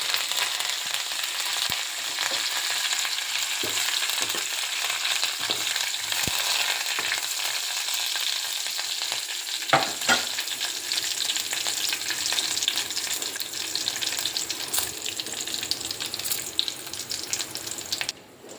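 Mustard seeds, garlic and curry leaves crackle and sizzle in hot ghee for a sambar tempering, a steady frying hiss with scattered pops and a few sharp clinks, no voices.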